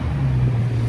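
A Yamaha T-Max scooter arrives on a Paris street, its engine giving a brief, loud, low steady drone close to the microphone.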